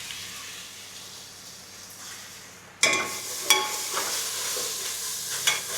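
A ladle of oil with browned onions hisses softly until two spoons of ginger and shallot paste drop in, setting off a sudden loud sizzle with stirring scrapes for a Gutthi Vankaya egg masala curry.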